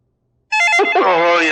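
A telephone rings with an electronic ringtone, a melodic trill that starts abruptly and continues loud and close for a little over a second before cutting into a busier, warbling passage.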